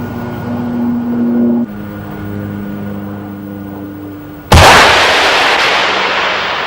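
Anti-aircraft gunfire aimed at a towed sleeve target during a Swedish weapons demonstration: a steady low drone gives way to one sudden, very loud blast that rolls off slowly into a lingering roar.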